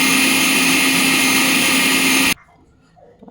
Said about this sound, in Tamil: இது நல்லா ஆறுனதும் மிக்சியில் போட்டு அரைச்சிடலாம்.